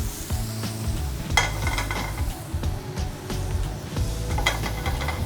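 Mushrooms browning in a hot pan sizzle steadily at close range, with frequent stirring scrapes and light utensil knocks and no talk.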